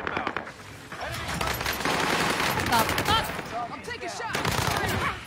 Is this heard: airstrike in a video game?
yes